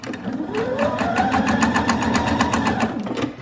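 A sewing machine stitches along a drawn line on fabric, its motor whirring steadily with a fast, even mechanical clatter that runs close and loud for several seconds without talk.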